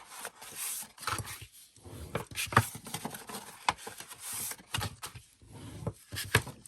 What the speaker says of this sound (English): let's go ahead and fold and burnish all of our scores